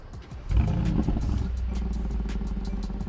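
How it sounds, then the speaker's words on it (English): A Mercedes-AMG G-Wagen SUV with its exhaust valves closed fires up into a sudden deep, rumbling rev that roars loudly for a moment, then settles into a steady low idle growl. "I'm gonna show you guys what the exhaust sounds like"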